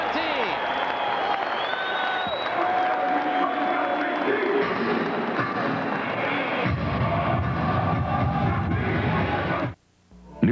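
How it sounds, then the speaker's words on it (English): Crowd noise fills a basketball arena during a Knicks at Nets game, a steady loud roar with scattered cheers and thuds that runs for about ten seconds before cutting out, with a commentator's voice mixed in. "And listen to this crowd."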